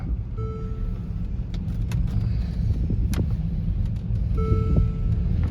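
Steady low engine rumble from inside a 2013 Mercedes-Benz GL63 SUV on the road, continuous and close throughout, with no talking.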